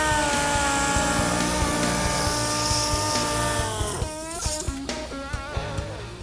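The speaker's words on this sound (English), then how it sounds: "we're going to take it one step closer with some 80 grit on a DA" A DA sander with 80-grit paper works epoxy on a Fox Body Mustang's car body, giving a loud, steady, tonal whine that holds evenly, then wavers and stutters near the end.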